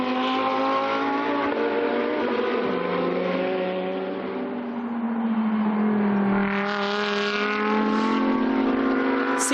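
GT2 race cars in race 2 of the Fanatec GT2 European Series at Dijon roar steadily and loudly throughout, engine notes rising and falling as cars accelerate and pass, with no talk over them.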